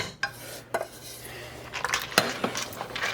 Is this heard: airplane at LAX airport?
no